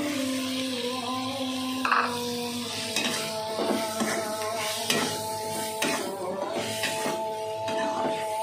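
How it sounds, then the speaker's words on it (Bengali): Cut potatoes tipped into a hot pan with spinach-recipe ingredients and stirred, giving a moderate sizzle with repeated scraping strokes over a steady background hum. "আলুটা দিয়ে দেব"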